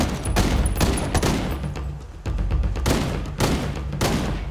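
Heavy gunfire in Ghost Recon Wildlands, a sustained barrage of loud, close shots in rapid bursts with deep thumping impacts, continuous throughout with no speech.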